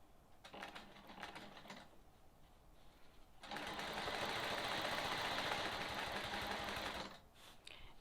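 A sewing machine stitches a quilting line on a sawtooth star quilt block. A short burst of stitching is followed by a pause, then a longer, steady whirring run of about three and a half seconds, close up and with no talk.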